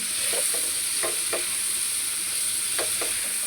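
Bitter gourd fries in a pan with a continuous bright sizzle, while a few quick spatula scrapes come in short bursts, close up and with no voices.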